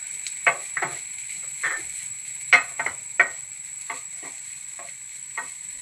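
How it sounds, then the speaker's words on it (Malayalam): Grated coconut and fennel seeds frying in oil in a pan, a faint steady sizzle under intermittent scraping stirs that tap and rasp at an uneven rhythm, close by. "ഇത് നല്ലൊരു ബ്രൗൺ കളർ ആവുന്ന വരെ വറുത്തെടുക്കാം."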